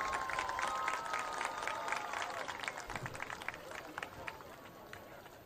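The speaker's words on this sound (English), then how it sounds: "how about a big round of applause for all of the band parents out there" Crowd applause for the band parents at a high school football field marching band event, dense clapping and cheering spread across the stands at moderate distance, steady throughout and slowly easing.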